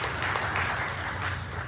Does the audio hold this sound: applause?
yes